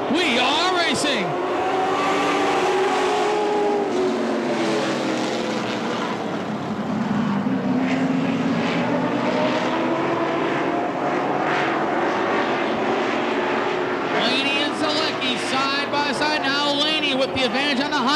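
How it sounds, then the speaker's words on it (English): U.S. Pro Super Late Model race cars racing on a speedway, a dense roar of engines rising and falling as the pack passes, steady and loud throughout with an announcer talking over it. "Chief starter Kenny Fairchild, green flag at hand. We are racing."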